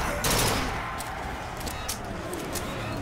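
Machine gun fire in the game Bioshock Infinite comes as a loud burst at the start, then quieter scattered shots, with game noise underneath.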